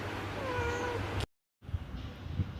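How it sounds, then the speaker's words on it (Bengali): A pet cat that has just had kittens meows in a home, with drawn-out wavering cries close by, then a quieter stretch of soft rustling after a brief gap. "মনে হয় ভীষণ ম্যাও ম্যাও করছে"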